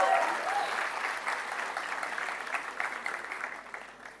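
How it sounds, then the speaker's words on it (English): Graduation-day applause from students at a BBA convocation fills the hall, a continuous patter of many hands that slowly tapers toward the end. "Kindly clap for Deep"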